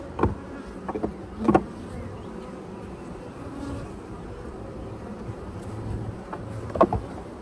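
Honeybees buzz around an open hive during an inspection, a soft, continuous drone with a few louder close passes near the microphone.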